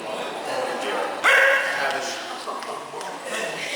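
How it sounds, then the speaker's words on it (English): A dog gives a single short, bright hello bark close by in a room, over a low murmur of people talking. "She has 10 barks, and this is her hello bark."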